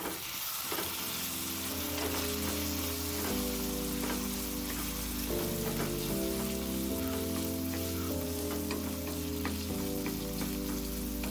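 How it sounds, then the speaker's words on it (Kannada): Potatoes and curry leaves fry in a pan with a steady sizzle and occasional stirring clinks, heard alone over continuous music with held tones throughout. "ಆಲೂಗಡ್ಡೆ ಜೊತೆ ಕರಿಬೇವಿನ ಸೊಪ್ಪು ಹಾಕಿ ಫ್ರೈ ಮಾಡ್ಕೊತಿದ್ದೀನಿ"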